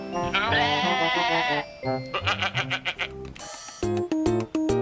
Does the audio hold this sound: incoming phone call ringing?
no